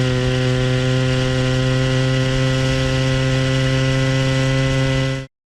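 A small motorized bicycle engine, still being broken in with its carburetor under tuning, runs at a steady, loud, buzzing idle with a strong droning hum. It cuts off abruptly at the end, and no one speaks.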